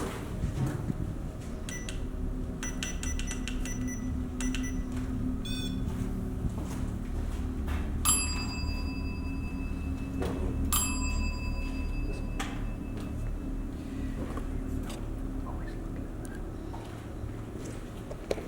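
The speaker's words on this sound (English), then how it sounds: "we have that bell that you're tapping currently" A small bell is tapped, giving several bright, ringing dings scattered through a quiet room, each note sustaining briefly before fading, with soft background noise between strikes.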